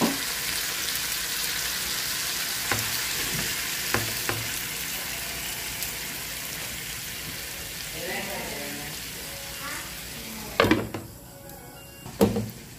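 Squid with onion and tomato sizzles and is stirred in a pan, a continuous frying hiss under scraping spoon strokes, with a few knocks and a louder clatter near the end.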